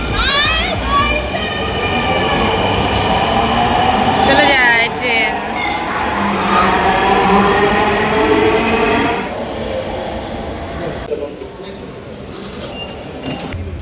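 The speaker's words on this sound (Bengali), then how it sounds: "ওই ট্রেনটা চলে যাচ্ছে দেখো" A train rumbles past nearby, loud and steady with squealing wheel tones, fading slightly toward the end while children's voices carry in the background.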